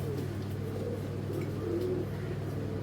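A racing pigeon from a BRPO club coos softly in a low, brief murmur over a constant engine-like hum, close by and without speech.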